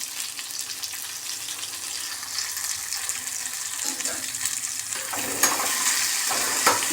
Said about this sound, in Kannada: ಈ ಸ್ವಲ್ಪ ಫ್ರೈ ಆಗಲಿ.